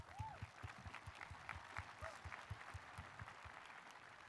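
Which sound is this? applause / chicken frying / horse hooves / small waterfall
applause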